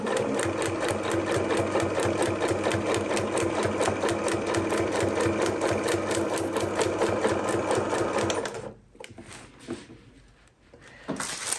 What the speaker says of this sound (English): So I will stitch with this pull fabric up.